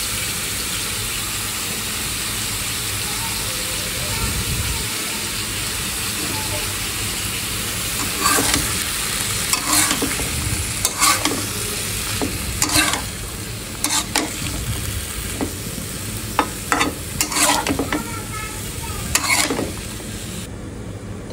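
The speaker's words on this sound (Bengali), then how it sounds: "কাঁচা টমেটো ভাজি করবো" Green tomatoes fry in a pan with a continuous hissing sizzle, while a spatula stirs and scrapes in irregular bursts that grow busier partway through.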